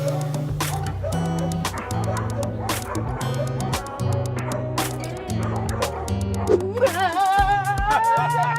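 A dog yips, whimpers and barks in short repeated bursts over steady background music, the calls close and fairly loud, ending in a higher whining stretch.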